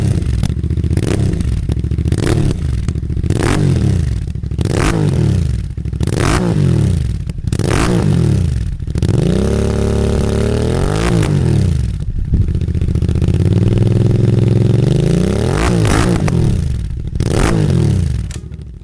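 A 650 twin-cylinder motorcycle engine revs up and down repeatedly with sharp throttle blips and longer sweeping climbs, loud and close, with no talking.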